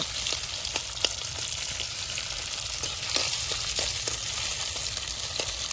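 Chopped onion sizzles steadily in hot oil in a pan for village-style cooking, with a metal spoon scraping and stirring through it in short, repeated clinks; no voices.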